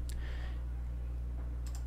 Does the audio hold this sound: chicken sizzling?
no